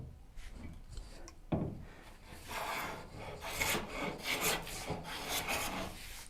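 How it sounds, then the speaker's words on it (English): A hand plane takes careful, unhurried strokes along wood for a Shaker Enfield cabinet, each pass a close, airy rasp that swells and fades, repeating steadily with brief pauses between strokes. "this is going to be not as an energetic planing as I usually do, because this is the get it correct planing."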